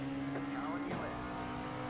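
An LMP2 prototype race car in iRacing sweeps past at Road Atlanta, its engine tone bending sharply in pitch as it goes by, under the steady drone of the player's own car.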